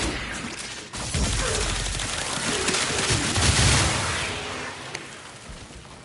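The Incarnon Torid fires in Warframe, a sudden loud onset followed by a sustained roaring, crackling barrage of rapid impacts and bursts that swells and then fades near the end.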